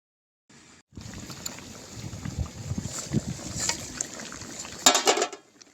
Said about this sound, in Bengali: এখানে মেশিন চলছে জল কমানো হচ্ছে এইটা থেকে মানে এই পুকুর থেকে ওই পুকুরে জল দেওয়া হচ্ছে